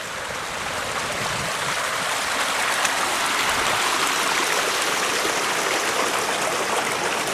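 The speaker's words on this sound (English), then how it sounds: "Here you can see where that little feeder creek comes out." A small feeder creek flows near a beaver lodge by a lake, a continuous close, bright rushing and trickling of water at steady loudness with no voices.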